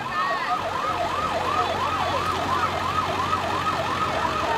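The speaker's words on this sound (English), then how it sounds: "as you can hear now, the sirens of the fire trucks" Fire truck sirens at a Christmas parade in a small town, a steady fast wailing yelp ringing out over the outdoor crowd and engine noise, fairly close and continuous.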